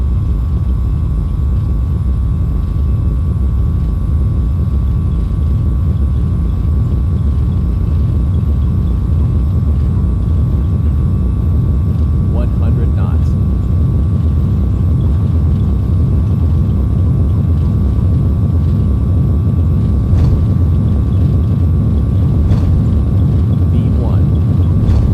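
Airbus A320 engines run at takeoff power in the X-Plane 10 flight simulator, a loud continuous low roar and rumble with a faint steady whine above it, holding throughout the takeoff roll.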